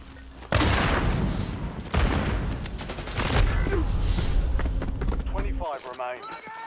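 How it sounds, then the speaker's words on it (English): A grenade is thrown and bursts in Call of Duty Warzone, giving a loud explosion followed by further booming blasts and gunfire in a busy battle, with announcer-style voice lines heard over the noise. "Throwing grenade!"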